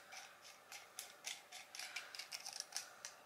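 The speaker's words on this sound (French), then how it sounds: "Ah faut le dévisser carrément." A plastic container being unscrewed so two erasers can be fitted inside, giving a quiet series of dry ratcheting clicks in an irregular rhythm, close by and with no talk.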